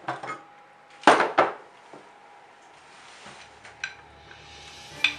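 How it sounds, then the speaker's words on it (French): Butter is stirred into caramel in a pan off the heat, with close scraping, clinking utensil knocks against metal and a few sharp taps amid quieter stretches. "vous pouvez sortir hors du feu votre caramel et mélanger le beurre dedans"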